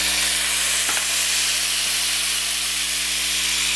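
Lemon juice poured into a hot steak skillet on medium heat gives a loud, steady steamy sizzle with a brief splash near the start, then a continuous even hiss.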